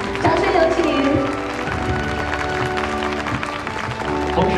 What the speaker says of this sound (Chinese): 掌声有请